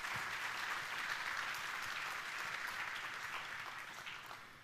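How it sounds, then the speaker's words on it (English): A seated audience breaks into a big round of applause after a speech, dense sustained clapping that stays full and even throughout, with a faint murmur of voices under it. "Let's give them all a big round of applause."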